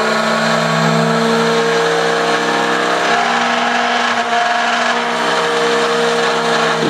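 Two motor-driven counter-rotating discs vibrating, a steady loud mechanical hum with sustained tonal whine and buzzing overtones, continuous and close throughout with no talk.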